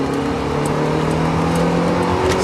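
A modified, high-mileage Mercedes 190E accelerates hard down a street, its engine a loud, sustained drone heard from inside the car with rising harmonic tones.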